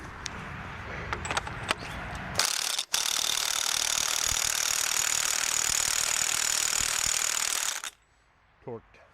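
A ratchet wrench tightens bolts on a 1971 Buick 455 V8 engine: after a few scattered clicks, a loud, steady mechanical whirring rattle runs for about five seconds, then stops abruptly, leaving near silence.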